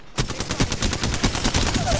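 Rapid gunfire in a video game: a quick burst of repeated shots in a tight, fairly even rhythm, loud and close, continuing for about two seconds with little else audible.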